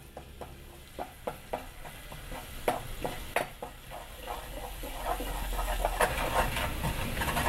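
Garlic and homemade seasoning fry in oil in a pan, a soft sizzle under a run of spoon clicks and scrapes at first, then a louder, thicker hiss building toward the end.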